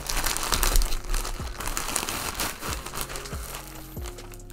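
Plastic packaging crinkling and crumpling up close as a Supreme unboxing parcel is opened, with irregular rustles and soft thumps of handling.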